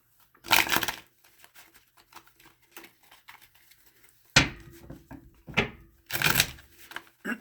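Tarot cards shuffled by hand during a reading make several quick riffling, flicking bursts with soft taps and handling noises between them, close and clear with no talking.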